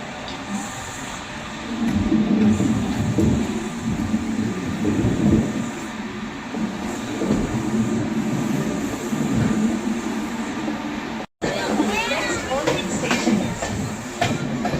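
Amrit Bharat Express train running between Howrah and Anand Vihar, a steady low rumble and rattle of the carriage throughout with faint rhythmic clatter, broken by a brief dropout near the end.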